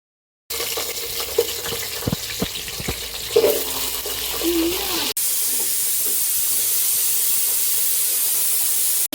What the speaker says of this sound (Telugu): ఆయిల్ కొంచెం వేడి కాగానే జీలకర్ర ఆవాలు వేస్తున్నవి.